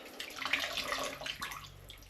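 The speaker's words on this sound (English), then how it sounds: "We'll give them a good wash now while these dry out" Bicycle bearing races and cages from a Raleigh Pioneer Trail hybrid being washed by hand in water, with close splashing and sloshing in irregular bursts, no talking.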